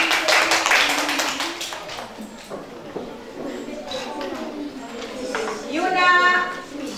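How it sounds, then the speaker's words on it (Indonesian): Schoolchildren in a classroom clap briefly for a classmate, a short burst of hand claps at the start that fades as voices and chatter take over. "Tepuk tangan untuk Maden."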